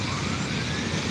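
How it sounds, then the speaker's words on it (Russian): An ambulance siren moving through heavy city traffic in Yakutsk in spring, a loud steady wail over the rumble of vehicles, with no voices. "Скорая несется."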